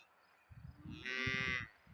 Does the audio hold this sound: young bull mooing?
yes